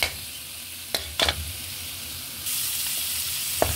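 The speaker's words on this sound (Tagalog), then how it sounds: "Kasangkutsa ko lang yung taba ng pork para magmantika." Pork fat sizzling and rendering in a pan as the first step of a vegetable adobo with string beans, eggplant and okra; a steady, close frying hiss with a few sharp pops and stirring scrapes, the sizzle growing louder partway through.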